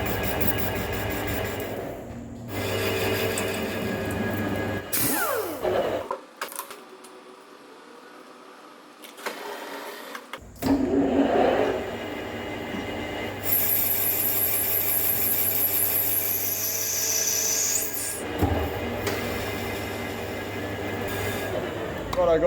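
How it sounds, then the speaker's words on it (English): A lathe faces and chamfers the end of an induction hardened chrome pin, giving a rough grinding, scraping cut that stops for a quiet spell midway, then resumes with high-pitched whine over steady motor hum. "I'm going to face and chamfer the bottom end of the pin."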